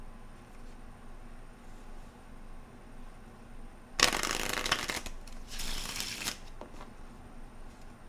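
A deck of playing cards is shuffled close by after a quiet stretch, giving two quick bursts of crisp riffling and flapping that fade into faint clicks, with no talk.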